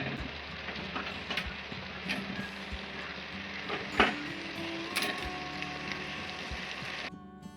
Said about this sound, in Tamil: கட் பண்ணி வச்சுருக்க வாழைக்காய், நண்டு சேர்த்து நல்லா கிளறிக்கலாம்.